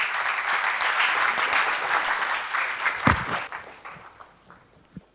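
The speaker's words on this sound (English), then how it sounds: "Can we give them a round of applause?" An audience claps after a talk on inclusive and agile leadership, dense applause for about three seconds that fades into a few scattered claps and a final sharp knock.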